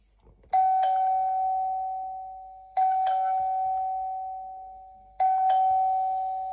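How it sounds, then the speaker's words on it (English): A cartoon doorbell chimes ding-dong three times at steady intervals, each two-note chime bright and clear and ringing out before the next, with no talking. "Someone is ringing the doorbell."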